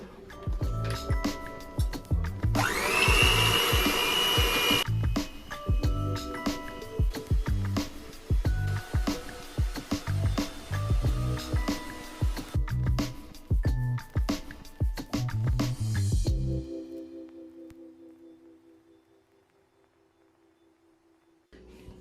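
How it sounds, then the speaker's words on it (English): A blender fitted with a whisk attachment whips egg whites into stiff, marshmallow-like peaks for an orange jello cake, giving a loud steady whir with a brief high-pitched whine near the start, running about sixteen seconds before cutting off abruptly. "We're just going to go ahead and blend them up."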